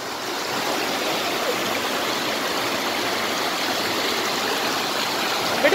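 Rushing river water at Ezhattumukham, a steady, dense broadband roar of flowing stream current, close and continuous throughout with no voices.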